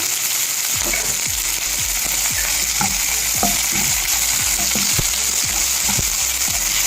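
Curry leaves frying in hot oil for a bread masala dosa: a steady bright sizzle with regular scraping strokes of a stirring spoon against the pan, close and alone.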